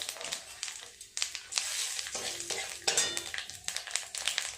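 Chopped onion sizzles and crackles in hot oil with whole spices, dry chilli, bay leaves and cumin, stirred with repeated scraping strokes against the pan; close and moderately loud, with no talking.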